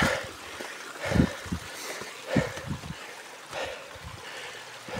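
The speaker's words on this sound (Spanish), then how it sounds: "Ay, aquí baja otro arroyuelo" A small mountain stream trickles and splashes on the Camino del Norte near Villaviciosa, Asturias, with irregular bursts of gurgling water and low thuds, close and moderately loud, no talking.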